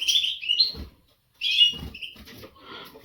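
A young canary-nightingale hybrid sings in short bright chirping phrases, two bursts separated by a brief pause, close and fairly clear with faint low rustling underneath.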